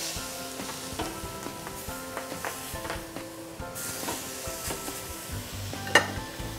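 Chili-rubbed steak sizzling steadily on a grill, a continuous close frying hiss with light scrapes and a sharp clink near the end, no talk.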